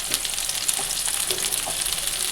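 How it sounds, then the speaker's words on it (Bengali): Potatoes and pointed gourd fry in a wok with tomatoes and spices, giving a steady, dense sizzle throughout with a few faint stirring scrapes and no talk. "দেখো আলু পটলগুলো সব ভাজা ভাজা হয়ে গেছে"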